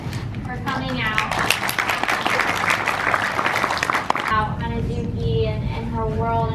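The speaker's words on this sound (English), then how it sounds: "Let's give Jessica a round of applause." A convention crowd at a HasCon panel applauds loudly and steadily for about four seconds with crisp overlapping claps, then the clapping drops away and a voice starts talking.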